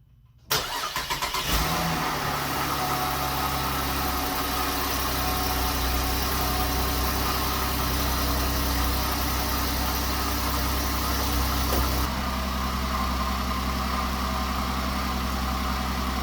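Chevrolet Camaro with a Cadillac 6L50 transmission cranks and starts, then settles into a steady, close, rumbling idle that drops slightly in pitch near the end.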